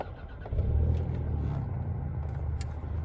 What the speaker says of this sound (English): I think I'm gonna turn the car actually on.